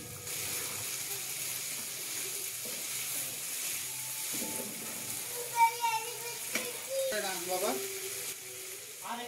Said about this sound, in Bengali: এখন আমি আলুটাকেও একটু সময় ধরে কষিয়ে নেব